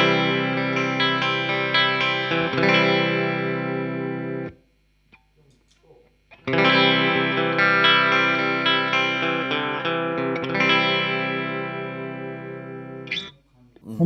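An electric guitar runs through a pedalboard of effects with distortion, chorus and echo. Rich sustained chords ring out in two long passages, separated by a near-silent gap, ending with a short pick scrape.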